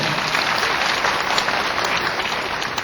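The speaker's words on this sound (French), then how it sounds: "Applaudissez très fort pour elle." A large crowd claps loudly and continuously for the First Lady at the official launch ceremony of Abidjan, perle des lumières, a thick wash of applause with no pause.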